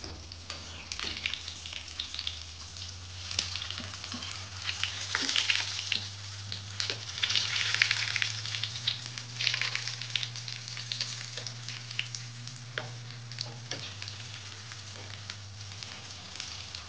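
Chicken patties fry on their second side in a pan, giving a continuous soft sizzle and crackle with scattered pops over a low steady hum, heard close up with no voices.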